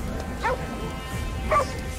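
A dog in the video game Ghostwire Tokyo gives two short barks about a second apart, moderately loud over a low background hum.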